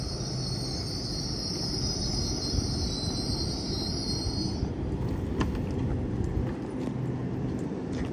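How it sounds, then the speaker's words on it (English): An LNER Azuma train arrives at Peterborough station on the East Coast Main Line, a loud continuous rumble of wheels on rails with a high squealing tone for the first few seconds before it fades into steady rolling noise. "Here we have an LNER Azuma coming in from London King's Cross."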